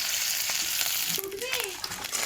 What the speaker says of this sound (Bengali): শুটকি মাছটা তেলে দিয়ে দিলাম